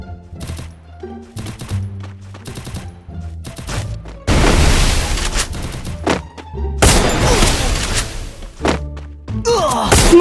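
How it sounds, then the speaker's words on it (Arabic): Grenade explosions in a video game, loud and booming, with two sustained blasts in the middle and another at the end, following a series of short thumps and pops. "يرمي في القنابل"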